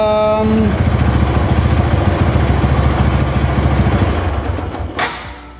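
Motorcycle engine running steadily at close range with a throbbing mid-pitched drone during a charging system voltage check, easing slightly toward the end.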